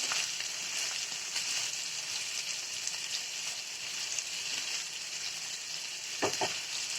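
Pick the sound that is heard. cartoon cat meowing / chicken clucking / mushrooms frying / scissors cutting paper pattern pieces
mushrooms frying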